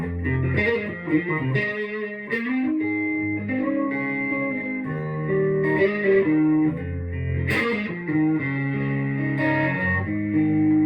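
Electric guitar played through a Distortion 3 pedal with no reverb, gritty sustained chords and notes ringing out, fairly loud and with no talking.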